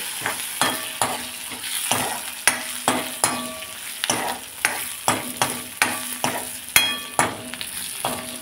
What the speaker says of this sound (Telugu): దీంతో పాటుగా వెల్లుల్లిపాయలు కూడా వేసేయాలి. వేసేసేస్తే ఆ వేడి మీద చక్కగా వేగిపోతాయి.